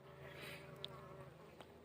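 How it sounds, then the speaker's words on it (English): A steady buzzing drone of many honey bees flying at a hive entrance, fairly faint, with one or two passing closer for a moment. "All I'm looking for are how many bees are flying in and out"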